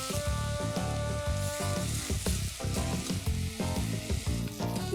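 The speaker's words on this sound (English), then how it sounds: "We add in some mushrooms, halved and quartered, and cook them through." Halved and quartered mushrooms and vegetables sizzle steadily in a hot pan, a continuous close frying hiss with occasional stirring, no voices.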